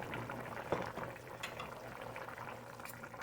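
Chicken and mixed vegetables boil in a covered pot, a soft continuous bubbling and simmer heard close and alone at low volume.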